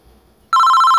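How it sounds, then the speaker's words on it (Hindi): A phone rings in a house, a loud, steady electronic ringtone that starts abruptly after a quiet moment and continues with a rapid trilling pulse, heard alone. "ये किसका फोन बज रहा है? मुझे लगता है किसी का फोन आ रहा है।"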